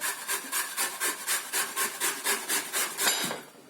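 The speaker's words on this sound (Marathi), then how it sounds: "आता आपण ही फुलगोबी किसून घेऊया." Cauliflower being grated for gobi paratha: a steady run of about a dozen quick, even scraping strokes, close and fairly loud, with no talking.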